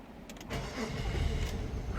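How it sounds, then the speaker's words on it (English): A 1999 Nissan Pathfinder engine cranks briefly with a starter whir, then catches and settles into a loud, steady idle rumble close by, with no talk. "I love hearing this car start up."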